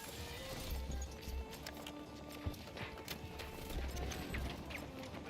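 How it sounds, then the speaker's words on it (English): Footsteps in the video game Battlefield 2042, a few soft, quick thudding steps in short clusters against a busy low background rumble, fairly faint and not very close. "I hear the footsteps"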